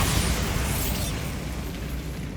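A Bombarda spell blast in Hogwarts Legacy, a close, rumbling burst that hits at once and then decays into a fading roar.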